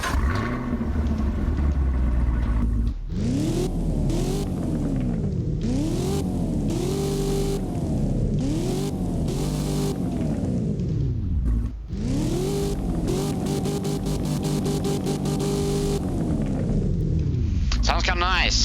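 Engine revving in the Roblox game Driving Empire, a loud car engine repeatedly climbing and dropping in pitch in a rapid series of rev sweeps, with a brief cut midway and steady full volume throughout.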